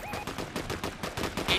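Rapid gunfire in Fortnite, a burst of quick, evenly spaced shots ringing out loud and close, with a brief electronic tone near the start and end.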